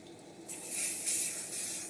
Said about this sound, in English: I'm just going to give it a tiny spray in some extra virgin olive oil